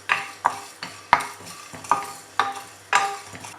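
Cumin, fenugreek and pepper are dry roasted in a pan, with a spoon scraping and tapping against the metal in regular strokes about every half second, under a faint crackle.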